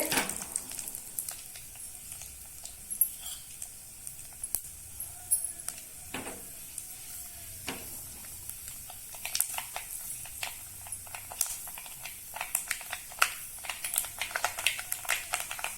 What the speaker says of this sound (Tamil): கடுகு நல்லா பொரியுது